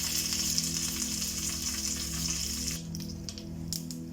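Hot ghee sizzles steadily with a dense hiss as mustard seeds, fenugreek, dried red chillies and curry leaves fry, then quiets as scattered small pops and crackles continue, close up, with no voices.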